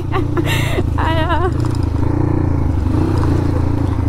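A Crossfire dirt bike's engine drones loud and close as it rides off-road, with a steady low rumble, some rattling clatter and brief whining pitch sweeps near the start.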